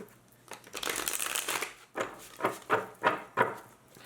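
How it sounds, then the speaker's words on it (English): Tarot cards riffle and shuffle in a long continuous burst, followed by several quick separate snaps as they are bridged and tapped together, close and fairly loud. "Give it one more shuffle."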